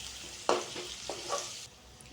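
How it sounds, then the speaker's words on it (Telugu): Salted onions frying in a pan while being mixed, a light sizzle with a few spatula scrapes and taps, then a sudden quieting near the end. "ఆనియన్స్ ఇలా ఫ్రై అవుతున్నప్పుడు ఇందులోకి కాస్త సాల్ట్ యాడ్ చేసుకోండి."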